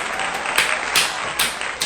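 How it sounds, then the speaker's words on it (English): Live audience clapping in a steady loud wash of applause, with a few sharper bursts of hands standing out over the sustained patter. "I can clap."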